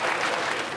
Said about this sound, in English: Round of applause, 8:35.